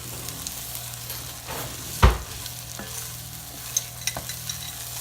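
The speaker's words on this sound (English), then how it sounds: "And I'm going to add a little bit of this sofrito." Sofrito sizzles softly in a pan alongside tomato paste for a chicken stew, with stirring scrapes and one sharp utensil knock against the pan near the middle.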